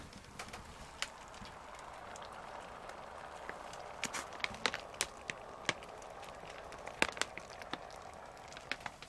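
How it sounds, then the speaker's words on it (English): Water boiling hard for coffee while an MRE is prepared, heard as faint, steady bubbling hiss with scattered sharp pops and crackles throughout, no voices. "It's seriously boiling like crazy."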